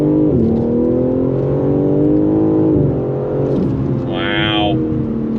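BMW G80 M3 Competition engine accelerating hard from inside the cabin, a loud rising roar that climbs in pitch, dips at a gear shift, then climbs again, with a brief tire or whine sound near the end.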